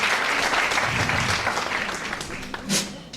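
Audience applause at a French-language speaking event, dense steady clapping throughout that eases slightly toward the end with a brief swell near the close.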